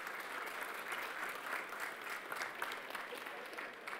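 An audience at an agricultural careers event on Irish machinery manufacturers applauds the panel, steady moderate clapping throughout with a faint voice underneath.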